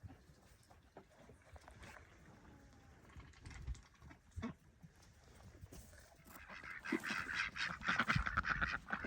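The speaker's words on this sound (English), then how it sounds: "the ducks and geese are out." Ducks and geese honk outdoors on a snowy day, scattered calls growing louder and denser toward the end among rustling outdoor noise.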